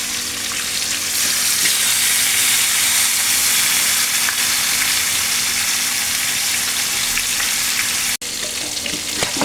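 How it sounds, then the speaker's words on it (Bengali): Katla and rohu fish heads frying in hot oil give a loud, dense, steady sizzle with crackling spatter that runs throughout, briefly cutting out near the end before resuming. "আর মাছ ভাজার সময় অনেকটা তেল ছিটে আসে"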